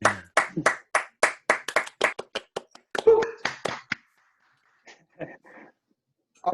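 A single person claps sharply and rhythmically after a talk on web development, about a dozen close hand claps over four seconds. A few softer, scattered sounds follow and then it goes quiet.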